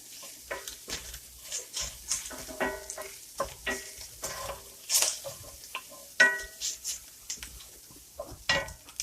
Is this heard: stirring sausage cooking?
yes